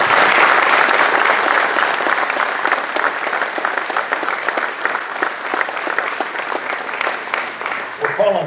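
Loud applause from an audience greeting the 2015-16 Kia NBA Sixth Man of the Year announcement, dense clapping rising at once then easing slightly while it continues to the end.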